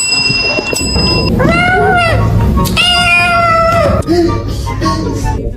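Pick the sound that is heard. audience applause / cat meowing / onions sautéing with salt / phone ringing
cat meowing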